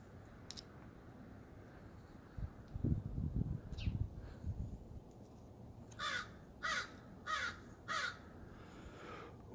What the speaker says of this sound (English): Oh, the crows are back.